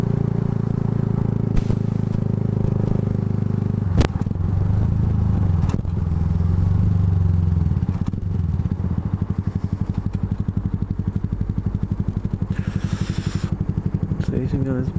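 A Yamaha R125 motorcycle engine during a roadside rev battle holds a loud, buzzing drone that rises and falls, then settles into a rapid, pulsing idle, heard close with outdoor clatter around it.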